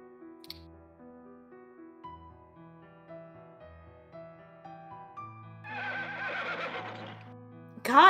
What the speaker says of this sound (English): God, a lot of horse noises for us tonight.